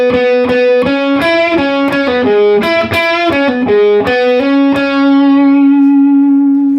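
Electric guitar with overdrive and effects playing the opening line of a song's solo, a quick run of distorted single notes ending on a long sustained ring-out, played alone.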